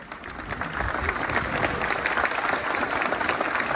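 A crowd gathered in a city centre for the arrival of a religious procession claps steadily, a dense sustained wash of applause that holds at an even level throughout.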